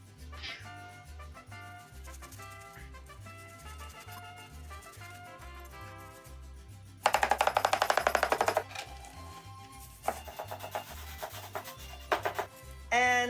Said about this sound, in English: I am going to cut this very finely as well